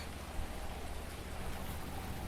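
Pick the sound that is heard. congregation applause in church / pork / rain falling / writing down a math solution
rain falling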